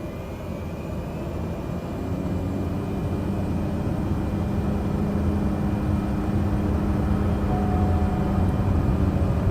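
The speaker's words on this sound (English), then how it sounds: "Ready for takeoff. So flaps to takeoff position, power lever," Aircraft engine in a flight video game, run up to takeoff power with flaps set: a loud, steady, close droning roar that swells slightly as it builds, with no other sounds on top.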